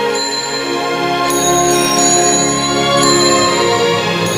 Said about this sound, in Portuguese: O som dos sininhos dava a velocidade da bola.